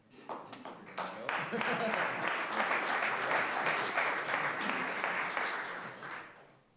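Applause from attendees at a St. Catharines city council meeting during a congratulatory scroll presentation. A dense, steady wash of many hands clapping builds quickly, holds for several seconds and then tapers off, with no talk over it.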